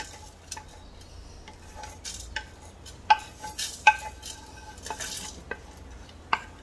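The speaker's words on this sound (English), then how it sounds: "Let me roast it for a while." Cumin seeds and black pepper for Chettinad masala dry roasting in a pan, with soft rattling and scattered sharp ticks and clinks of the spatula against the pan over a quiet background.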